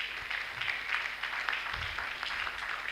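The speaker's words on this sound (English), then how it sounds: "I think this deserves an applause" An audience claps at the IPES 22nd anniversary and induction ceremony. The applause is modest and somewhat distant, a scattered patter of hands with a low murmur beneath.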